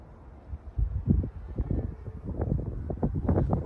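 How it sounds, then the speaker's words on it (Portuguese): Strong wind buffeting a phone microphone outdoors at a newly cleaned house, loud gusty rumbling that rises and falls in irregular bursts, with no voices. "O vento. Gente, o vento tá forte."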